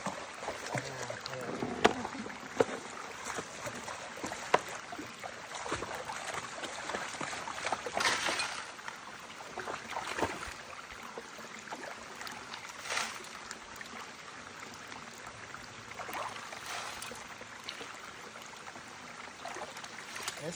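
Water running over a small waterfall edge in a Pennsylvania creek, a steady broad wash with splashes and handling noises on top, fairly close and moderate in level.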